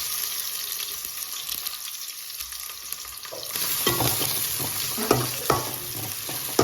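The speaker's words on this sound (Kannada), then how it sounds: "ಈರುಳ್ಳಿನ ಹಾಕೋಣ." Chopped onions frying in an oiled pan with mustard seeds for a mushroom curry, a steady close sizzle with stirring scrapes and clinks that grow louder partway through.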